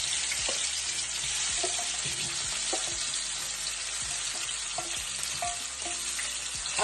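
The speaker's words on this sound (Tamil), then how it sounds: "அப்படியே போட்டு நல்லா இதை பொரிச்சு எடுக்க வேணும்." Marinated prawn heads frying in hot oil, a dense, continuous loud sizzle with occasional soft knocks and stirring sounds close by, no voices.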